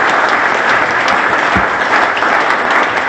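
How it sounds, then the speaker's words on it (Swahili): A hall crowd gives sustained, loud applause for Tanzanian President Samia Suluhu Hassan at the launch of the Gran Melia hotel in Arusha, with dense clapping and no gaps throughout. "Makofi mengi sana."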